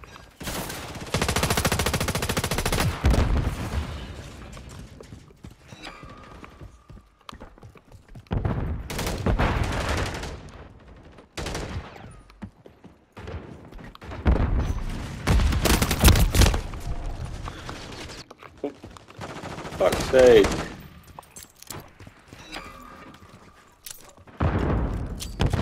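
Bursts of automatic gunfire from the video game Call of Duty MW3 come in several loud clusters separated by quieter gaps, with rapid fire and heavier blasts over a busy multiplayer match.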